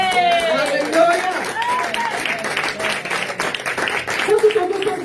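A church congregation claps and cheers in praise of Jesus during a worship service, a dense steady wash of applause and voices with singing tones rising through it, loud and sustained throughout.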